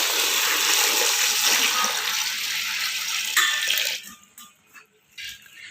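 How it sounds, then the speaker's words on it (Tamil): Water gushes steadily from a tap into a pot holding thirty eggs, a loud, continuous rush that cuts off abruptly, followed by a few faint knocks and splashes. "முட்டை மூழ்கிற அளவுக்கு தண்ணி ஊற்றிக்கலாம்"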